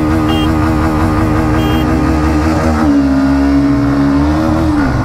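Hero Xtreme 125R and Bajaj Pulsar NS 125 2024 edition motorcycles in a drag race, engines loud and close with a steady droning roar and a pitch that climbs and shifts as they accelerate through the gears.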